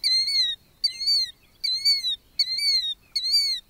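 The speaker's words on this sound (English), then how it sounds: "Challenging the willet for the title of most talkative shorebird is the killdeer, a well-known plover" A killdeer plover, a talkative two-banded shorebird, gives five loud, clear, repeated calls in a steady rhythm, each a high drawn-out note with a rising then falling slur, close and alone with no voices.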